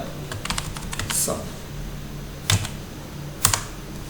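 Typing on a computer keyboard while entering text into an MS Excel sheet, heard as a few short bursts of light key clicks separated by pauses, moderately close with a low background hum.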